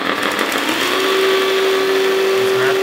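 A 1/14 JDM 8x8 metal hydraulic RC dump truck with two-speed gearing running in high gear, giving a loud, close, constant motor whine with a steady higher tone joining partway through.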